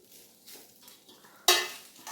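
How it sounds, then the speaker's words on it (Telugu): A spoon stirring cooked rice into fried mint leaves in a pan, soft scraping and light sizzle with one sharp metallic scrape midway, close and fairly quiet. "ఇప్పుడు ఈ రైస్ని బాగా కలపాలి ఈ పుదీనాలో వేగిన పుదీనాలో రైస్ని బాగా కలపాలి"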